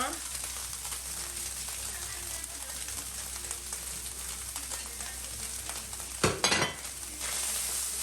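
Samosa filling with fresh cilantro sizzles in a pan as it is mixed, producing a continuous soft frying hiss with faint stirring, then a brief louder clatter near the end; no speech over it.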